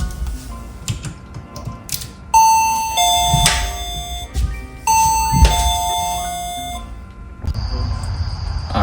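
An inexpensive video doorbell, newly plugged into a wall outlet, sounds two bright electronic chime sequences of ringing tones, each fading out, with clicks and handling noises around them and a short beep near the end.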